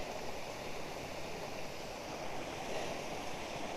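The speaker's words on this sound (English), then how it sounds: "beautiful little waterfall" A small waterfall on a hiking trail at Mont Orford gives off a constant broadband rush of falling water. It is steady and fairly faint, with no voices.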